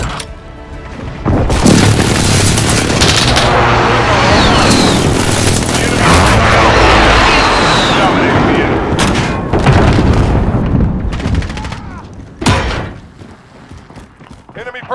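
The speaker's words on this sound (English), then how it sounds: "Precision airstrike on the way." Precision airstrike explosions rumble through a video game match, a long run of heavy booms and blasts layered together, loud and close, followed by sharper separate impacts toward the end, with an announcer voice and chatter mixed in.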